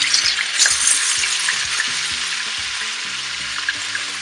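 Loud, continuous crackling and spitting of fish frying in hot oil, close up, with a few low clunks of the pan underneath.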